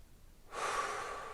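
A single deep, breathy inhalation or exhalation starts abruptly after a moment of quiet, close and soft, trailing off gradually.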